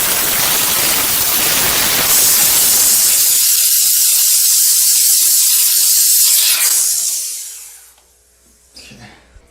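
A BEAMNOVA high-pressure handheld steam cleaner with a metal bristle brush works on tile grout, giving a loud, steady hiss of spraying steam with scrubbing underneath for about eight seconds, then cutting off to near quiet with a few small clicks.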